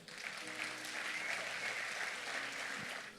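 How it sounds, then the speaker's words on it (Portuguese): A church congregation at a Wednesday worship service breaks into sustained applause for the Lord, a dense, even wash of many hands clapping at once, moderately distant. "Você pode dar um aplauso ao Senhor?"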